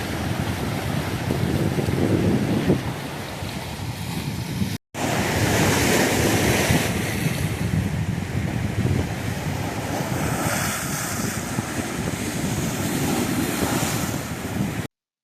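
Waves roll and wash continuously on the Lake Michigan shore beside a pier at Manistee, with gusty wind buffeting the microphone throughout, broken by one brief cut.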